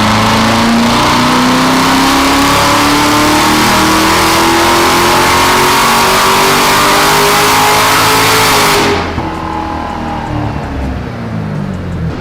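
A Chevrolet Corvette C7 Z06 engine winds up steadily on a dyno, its loud rising rev climbing for about nine seconds before the throttle snaps shut and it drops back to a lower drone.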